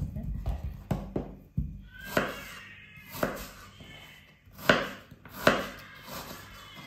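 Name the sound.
chopping peeled apples into large pieces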